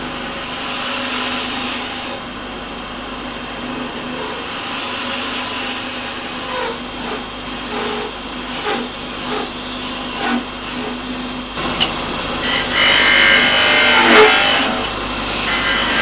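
A homemade cutting tool, a wrench sharpened on a grinder, scrapes wood spinning on a lathe with a continuous loud rough hiss and whir, its texture shifting as the cut changes, with no talking.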